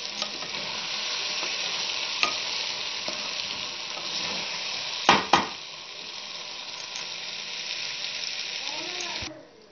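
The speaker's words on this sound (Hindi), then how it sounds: "अब हम इसे अच्छे से मिक्स करेंगे। ये देखें, अच्छे से हम इसे भून लेंगे।" Masala bhindi (okra) is stir-fried in a pan, with steady close sizzling and scraping strokes throughout, two sharp utensil clanks midway, and the frying fading near the end.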